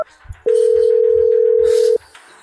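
A single steady telephone tone sounds loud and clear for about a second and a half after a call is cut off, with faint room noise before and after.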